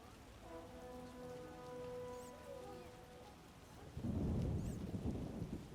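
Steady rain and a deep rumble of thunder in The Witcher video game, a soft wash of rainfall that swells into a loud, rolling thunderclap near the end, with faint musical tones underneath.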